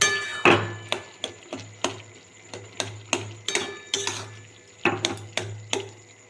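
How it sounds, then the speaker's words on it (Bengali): A utensil knocks and scrapes rhythmically in a pan as boiled potato curry with nigella seeds and green chillies is stirred and mashed, about a dozen sharp close taps spaced roughly half a second apart over a soft background hum. "একটু ঘেটে নেব"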